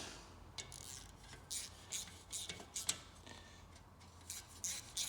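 A ratchet clicks in short, quiet bursts as it tightens the cylinder-head nuts on an air-cooled VW engine, the light ticking coming in irregular runs against a faint background hum.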